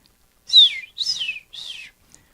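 A storyteller's voice imitates a baby bird with three short, high chirps, each lasting about half a second with pauses between, close and clear against silence.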